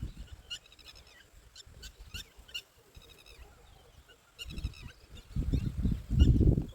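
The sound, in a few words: birds calling in a farm field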